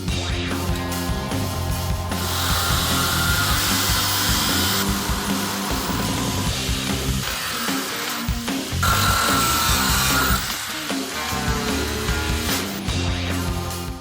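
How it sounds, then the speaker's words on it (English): An angle grinder cuts through a rusted washing-machine drum, running loud and steady for the whole stretch with a harsh, continuous metallic whine that shifts in pitch as the disc bites, and no talking. "Time to grab the grinder and slice this drum right down the middle."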